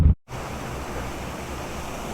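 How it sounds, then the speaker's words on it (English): Serendipity Falls, a small waterfall in the Atherton Tablelands, gives off a steady, broad rush of falling water that carries on without pause after a brief dropout at the start. "there's this amazing little waterfall just right here. It's called Serendipity Falls"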